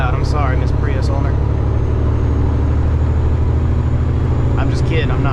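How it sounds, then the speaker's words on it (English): A loud truck on rural back roads gives off a constant low engine drone and road rumble, while someone talks continuously over it from inside the cab. "I know my truck's loud."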